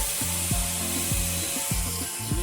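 Angle grinder switched on and running with its guard and a small disc fitted, a loud continuous whine with a regular rhythmic thump repeating about every half second, no speech.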